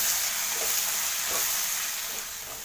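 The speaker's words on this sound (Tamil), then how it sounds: "இப்போ இந்த மசாலா வாடை, பச்சை வாடை போகிற அளவுக்கு நல்லா வதக்கிக்குவோம்." Masala sautéing in a pan for Tamil-style beef curry, a steady broadband sizzle with faint stirring scrapes, close and continuous, no talk.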